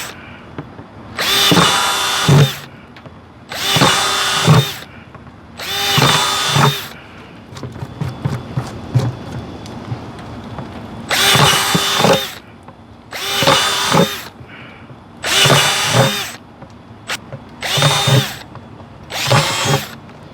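Power drill boring drainage holes through a plastic 5-gallon bucket, eight loud bursts of whining drilling in a fairly even rhythm, with a stretch of clicking and handling noise between them.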